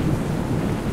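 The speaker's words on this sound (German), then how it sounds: "Gewitter." A low, steady rumble of thunder rolls through a horror video game thunderstorm, filling the whole brief moment with dense, continuous noise and no talk.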